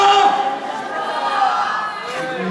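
A church congregation shouts together loudly and continuously during a worship service, a dense roar of group cheering that holds steady throughout.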